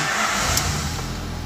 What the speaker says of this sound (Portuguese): Feito isso, eu ligo o carro